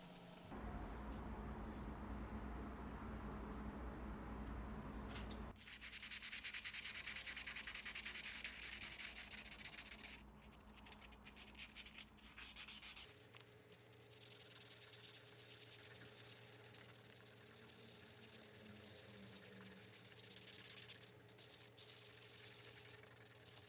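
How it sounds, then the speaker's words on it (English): Hand sanding a Tonka truck grill in tight corners, working up through fine grits to 600: steady close scratchy rubbing strokes that keep going throughout, with shifts in texture and pace between passes and no talking. "you do have to sand in pretty tight corners"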